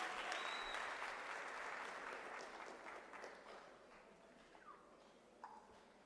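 Applause for graduates at a Unisa spring graduation ceremony in a large hall, a dense crowd of clapping that slowly fades from loud to faint, with a few brief stray sounds near the end.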